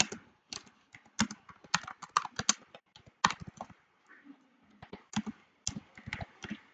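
Clicky keystrokes on a computer keyboard while typing a short phrase into Google Docs, coming in quick uneven bursts with brief pauses between words, close and fairly quiet.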